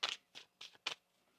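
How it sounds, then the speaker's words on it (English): A deck of tarot cards shuffled nearby in four quick crisp riffling bursts, evenly spaced, then a short quiet tail; no voices. "One more shuffle here."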